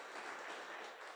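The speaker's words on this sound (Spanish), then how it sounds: "Démosle un fuerte aplauso al Señor, hermano." Congregation at a devotional church service applauding, a brief, faint, even wash of clapping from many hands with nothing else on top.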